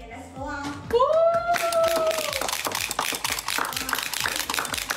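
A handheld plastic clapper toy snapping in quick rhythmic clacks, a rapid run of sharp taps close by while someone talks over it.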